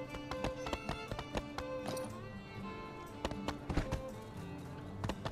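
Hooves clip-clop at an uneven trot in the game My Time at Sandrock, sharp close taps scattered through five seconds over steady background music, with no voices.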